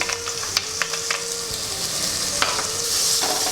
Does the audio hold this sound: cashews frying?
yes